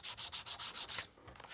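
Sandpaper rubbing an altered playing card in quick, even strokes: about eight rasping passes, close and fairly loud, then a short quieter scrape on its own.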